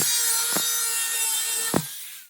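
A tin oil can is cut along a marked line for a wood turbo stove, giving a continuous harsh, close rasping scrape with a couple of short sharp catches of the blade.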